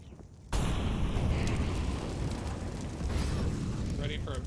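A grenade bursts in a Counter-Strike match, a sudden loud blast followed by a sustained rumbling roar that fills the rest of the moment, with faint game noises on top.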